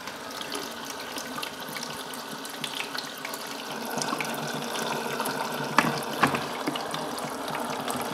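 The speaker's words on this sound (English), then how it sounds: "I'm going to press start, and it should start to fill" Hot water flows into a Bosch Maxx WFL 2060 washing machine as it fills, a continuous rushing hiss with a couple of faint mechanical clicks partway through.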